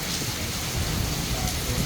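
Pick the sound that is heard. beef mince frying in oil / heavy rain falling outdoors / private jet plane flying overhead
heavy rain falling outdoors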